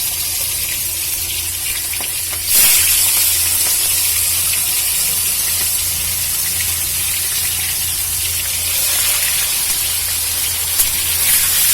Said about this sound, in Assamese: এপিচকৈ মাংসটো ভাজি লওঁ, যেনেকৈ মাছ ফ্ৰাই কৰে তেনেকৈ